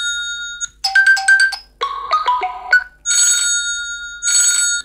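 A Huawei Nova smartphone plays its ringtone at maximum volume through the main speaker, giving loud, bright electronic chime phrases and then bursts of ringing.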